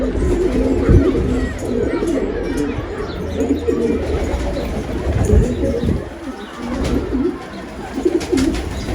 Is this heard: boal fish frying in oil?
no